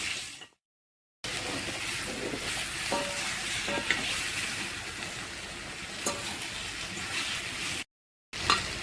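Patra (alu vadi) frying in a pan and being stirred, a steady close sizzle broken by scraping stirs and light clinks, with two short silent gaps.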